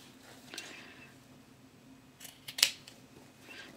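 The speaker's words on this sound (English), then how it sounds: "I'm going to trim on the outside of that stitching line, so about a quarter of an inch, and I'm going to snip them all off." Scissors snip through the fabric corners of a boxed-corner zipper bag, giving a few crisp, close cuts spaced over a few seconds, with one sharper snip standing out, against quiet background and no talk.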